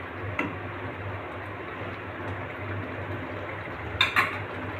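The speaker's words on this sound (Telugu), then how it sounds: "ఇప్పుడు కలుపుకుందాము. చిన్నగా విరిగిపోకుండా కలుపుకుందామండి," A spoon stirs egg curry in a pan with soft scraping and light clinks, a quiet continuous sound broken by a few sharper metallic taps near the end.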